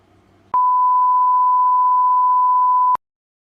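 A single steady electronic beep tone sounds alone, loud and unbroken for about two and a half seconds, then cuts off to silence.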